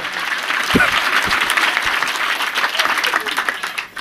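Loud, dense clapping from a lecture audience at a Ganesh festival mandal continues throughout, a full crowd applauding steadily before fading slightly at the very end.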